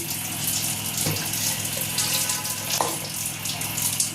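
Water is poured little by little onto soaked rice in a pot for basanti pulao, making a continuous close trickle and splash with a slight hiss.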